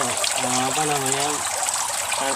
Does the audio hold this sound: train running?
no